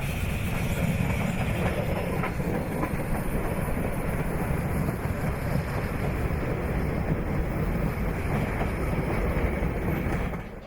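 An AB class steam locomotive hauls its train up the steep Westmere bank in New Zealand, a steady, continuous rumble and clatter heard from a distance.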